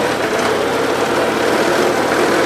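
A 1977 Gravely GMT 900 tractor engine cruises in fourth gear, a loud, steady, dense roar with constant rumble and no break, close to the machine, no talk.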